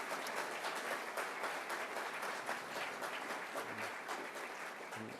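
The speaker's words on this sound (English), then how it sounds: "Let's give a big round of applause" Sustained applause from an audience at an outdoor official portrait unveiling ceremony, following a rendition of the national anthem; dense, steady clapping fills the whole stretch at an even level with no voices over it.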